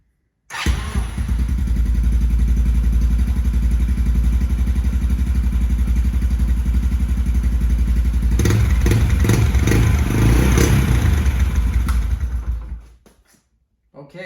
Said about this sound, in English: start the quad for a moment, let it idle and circulate the oil